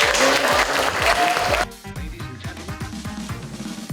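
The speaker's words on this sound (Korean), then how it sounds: "박수 한번 주세요" An audience claps for an actor's talk at an arts academy, with dense applause over music in the first part, then sparser clapping as the music carries on more quietly.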